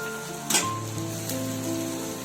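Fresh mint hitting hot oil in a pan while cooking egg masala, a sudden crackling hiss that settles into a steady, close sizzle.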